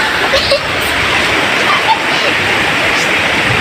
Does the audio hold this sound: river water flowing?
yes